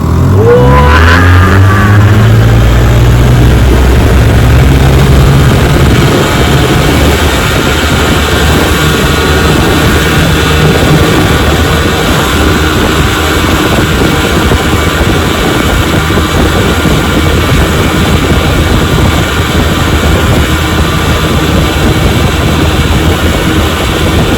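A restored 1957 Johnson Sea Horse outboard motor runs on a boat with a loud, sustained buzzing drone that rises sharply at the start and then holds steady for over twenty seconds.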